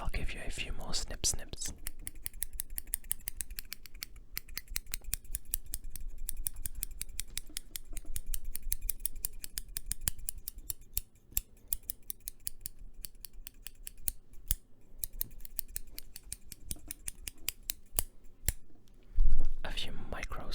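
Micro-snips make crisp, rapid snipping cuts close to the microphone, with a quick clicking rhythm that runs almost the whole time. Soft whispering is heard underneath.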